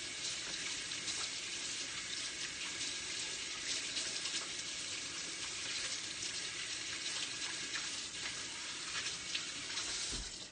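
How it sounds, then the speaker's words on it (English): A sink tap runs steadily as hands are washed in a kitchen, a continuous hissing splash of water that stays even and moderately close throughout, with no talking. "So, I'll wash my hands"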